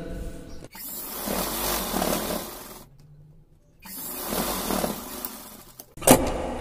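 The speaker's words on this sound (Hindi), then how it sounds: "तो एक सिलाई इधर भी लगाते हैं।" A sewing machine stitches a fabric face mask in two sustained runs of busy motor whir and needle clatter, split by a short pause. A brief sharp clack follows at the end, with no speech.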